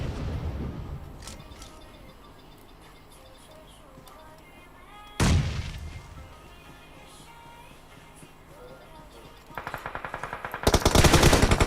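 Rapid bursts of automatic gunfire from the mobile battle royale game PUBG Mobile, including a loud single shot midway and a close, sustained volley at the end, with quieter game ambience and a little talk.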